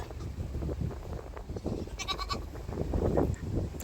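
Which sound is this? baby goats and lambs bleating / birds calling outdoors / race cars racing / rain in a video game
baby goats and lambs bleating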